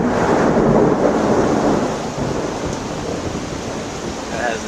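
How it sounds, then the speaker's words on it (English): Wind-blown rain lashes a porch in Kennesaw, Georgia, during a thunderstorm, a loud, dense wash of hiss and rumble that eases slightly partway through and continues steadily. "The wind's blowing the rain right in my face."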